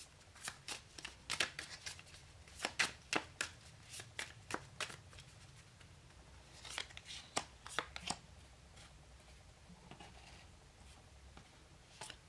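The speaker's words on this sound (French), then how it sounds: "on va faire un tirage en 9 cartes" Tarot cards being shuffled by hand for a spread, a rapid run of soft riffling snaps and flicks in bursts, quiet and close.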